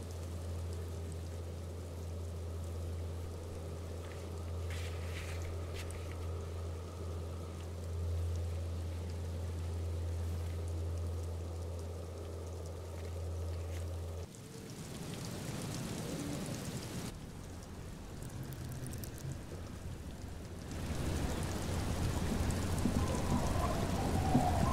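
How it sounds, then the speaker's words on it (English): Steady rain falls on a wooden pier and the surrounding water in Disco Elysium, a constant soft hiss that shifts and grows rougher partway through, with a low hum underneath early on. "All around you, rain keeps falling down. On the wooden boards she's standing on, and on the water around you."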